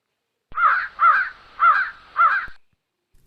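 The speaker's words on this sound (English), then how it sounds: "crow" A crow gives four loud, harsh caws in an even rhythm, close and clear, with no other sound around them.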